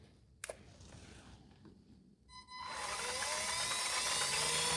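A custom Tamiya BBX RC buggy's electric motor, a 21-turn unit with an 18-tooth pinion, revs up after a few quiet seconds of handling noise into a loud, close, high-pitched whine that climbs and holds steady.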